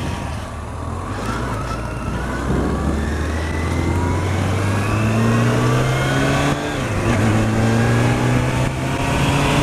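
A motorcycle engine revs and climbs in pitch as it goes by on the street, a loud and near sweep of rising tones over steady traffic rumble, with no talking.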